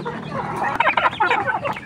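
Free-range village chickens cluck close by in a short, busy run of overlapping clucks after their morning feed, with no talk.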